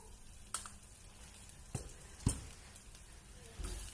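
Turmeric, chili powder and coriander-cumin being sautéed for a dudhi (bottle gourd) kofta gravy with onion paste: a soft, steady sizzle of frying spices, broken by a few sharp clicks of a spoon stirring against the pan.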